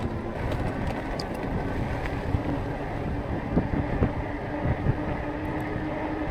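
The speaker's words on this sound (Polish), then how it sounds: "strasznie zaczyna padać i wiać. Wiać to wieje już. Mocno." Strong wind blowing outdoors on a new bike path under construction as rain starts, a continuous loud rumbling roar buffeting the microphone with no speech.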